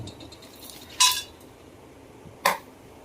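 Two sharp metallic clinks about a second and a half apart as whole spices and a bay leaf are stirred in hot oil in an iron kadai for chicken fry, over a low steady background hiss.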